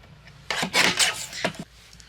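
A paper trimmer cuts cardstock for card making, producing two short rasping slides, one longer and one brief, close by in a quiet room.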